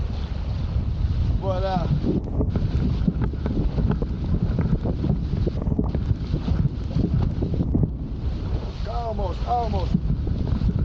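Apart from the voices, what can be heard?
wind blowing while wing foiling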